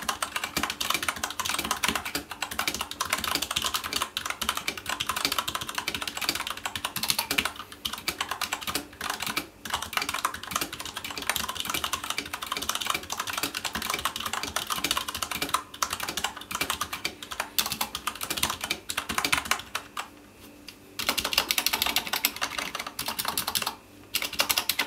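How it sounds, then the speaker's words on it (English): Continuous fast typing on a Matias Mini Quiet Pro mechanical keyboard fitted with O-rings, a dense stream of muted, cushioned key clacks at close range with brief pauses. "So now just the typing with the O-rings."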